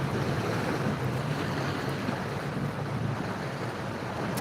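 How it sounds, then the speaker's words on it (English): Water waves wash in a steady, broadband roar of surf, with rushing noise, loud and continuous, no speech over it. "that water sounds real nice, boy. Real relaxing."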